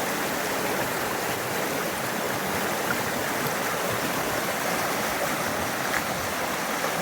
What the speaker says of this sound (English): Water's moving on.